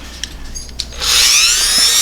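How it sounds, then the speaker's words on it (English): Rotary tool with a cutoff wheel working on a model car grille, a couple of faint taps followed by a sudden loud, high whining spin that holds steady. "I am terrified of these cutoff wheels."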